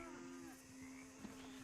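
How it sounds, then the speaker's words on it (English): A Florida Cracker cow moos in Red Dead Redemption 2, a single low, steady, drawn-out lowing tone heard faintly against a dense outdoor ambience, with no talking. "Florida cracker cow."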